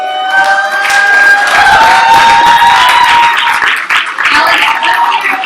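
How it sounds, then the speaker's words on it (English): Loud audience applause at a youth forum with Chicago mayoral candidates, clapping mixed with high cheers and shouts from a close, lively crowd. "Let's get some applause."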